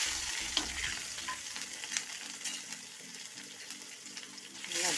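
Dried chilli, curry leaves and crushed ginger and garlic sizzle steadily in hot oil for a squid stir-fry, with a few spoon scrapes and knocks against the pan.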